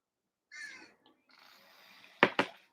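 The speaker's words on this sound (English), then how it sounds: "Listen to the crow." A crow caws outdoors: a raspy call, a faint pause, then two sharp, loud caws close together near the end, with no talking.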